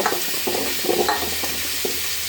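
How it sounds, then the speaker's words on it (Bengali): Soft frying sizzle with intermittent scraping and stirring clicks from a pan, fairly close, no talking. "এবার আলুগুলো ভাজি করে নেব"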